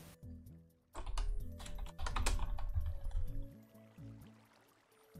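Rapid mouse clicking during Minecraft BedWars, a fast dense stream of clicks in two bursts, close and steady over in-game background tones.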